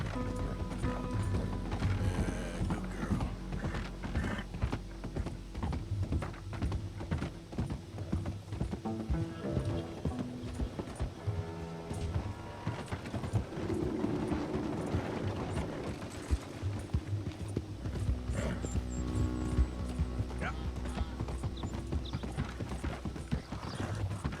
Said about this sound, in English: this horse is pretty fast